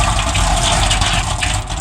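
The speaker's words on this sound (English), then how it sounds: "This is my tap where I have water 24/7." Water gushing steadily from a kitchen sink tap, a loud, close, continuous rushing stream with no pauses.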